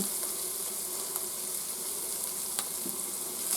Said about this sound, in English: We're going to stir that in and let it soak up that fat